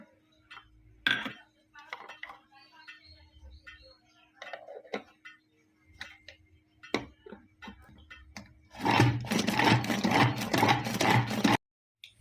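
A bowl of freshly grated coconut whirring loudly for a few seconds in a kitchen mixer grinder, coming after scattered clinks and taps of utensils on a countertop and then stopping abruptly.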